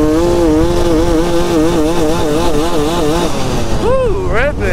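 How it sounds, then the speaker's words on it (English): A motorcycle engine idles roughly and unevenly, a loud close wavering drone that surges and dips throughout, ending with a brief rising rev. "Oh, my bike's idling funny."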